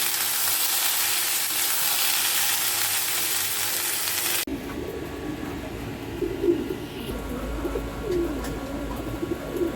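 Potatoes frying in a pan: a bright, hissing sizzle fills the first half, then gives way to quieter kitchen sounds with a pigeon cooing nearby.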